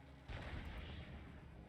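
Flagship in the Homeworld Mobile space game pouring fire onto a frigate: a dense, loud burst of booming weapon blasts that starts abruptly and rumbles on steadily, with no voices.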